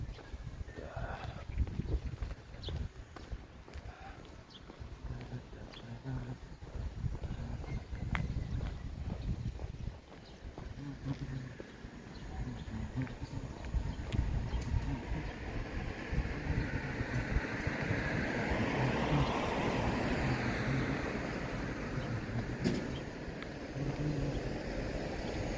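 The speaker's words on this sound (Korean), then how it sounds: "이 바람 소리가 들리나 모르겠습니다" Cool dawn wind blowing outdoors during an early-morning walk, a steady broadband rush that swells louder toward the middle and end, with someone talking intermittently over it.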